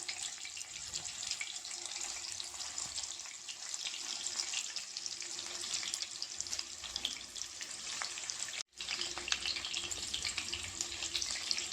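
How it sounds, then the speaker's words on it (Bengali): Skinned shol fish pieces, rubbed with salt and turmeric, fry in hot oil over low to medium heat. A steady, hissy sizzle runs throughout, broken by a brief silent gap near the end before it resumes. "এবার আমি এগুলোকে গরম তেলে দিয়ে দিচ্ছি।"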